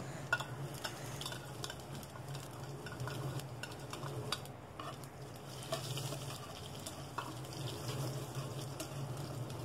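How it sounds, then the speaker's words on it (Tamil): Crushed garlic and fennel fry quietly in a pan, a soft low sizzle under repeated stirring and scraping, fairly faint and steady throughout, with no voices. "நம்ம க்ரஷ் பண்ணி வச்சுருந்த பூண்டு சோம்பு சேர்த்து நல்லா ஃப்ரை பண்ணிக்கலாம்."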